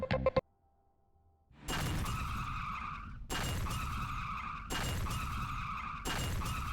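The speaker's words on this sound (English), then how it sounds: "As we are exiting, a van full of mobsters crashes through the entrance" In the Hotline Miami video game, a van full of mobsters smashes through an entrance, heard as repeated loud bursts of tire screech and crashing noise after a brief quiet gap.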